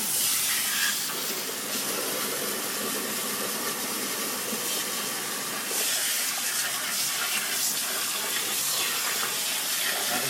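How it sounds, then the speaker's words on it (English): High-volume water hose spraying: a loud, steady, broad rushing hiss of water that runs unbroken throughout, with no voices over it. "This is a high volume hose, but watch, this will start foaming out."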